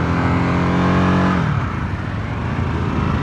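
A Harley-Davidson 2023 Sportster S motorcycle revs hard, its loud rising engine note building for over a second before easing into a steady rumble.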